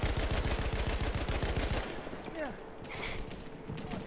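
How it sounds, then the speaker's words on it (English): Rapid automatic gunfire in the Battlefield 1 video game, a fast rhythmic burst of shots that cuts off partway, followed by scattered distant bangs and battle noise. "I'm getting shot at!"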